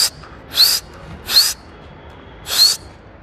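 A person whistles to call homing pigeons, three short sharp rising whistles spaced about a second apart, each fairly loud over a quiet outdoor background.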